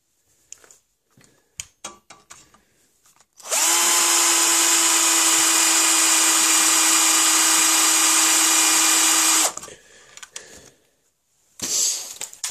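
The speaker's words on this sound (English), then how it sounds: "Now I can drill the hole directly, or mark the hole with a bigger drill" A power drill bores a hole through a metal lock part for a 1650-style wheellock pistol. The steady whine starts abruptly and holds for about six seconds, then cuts off, with scattered handling clicks before and after it.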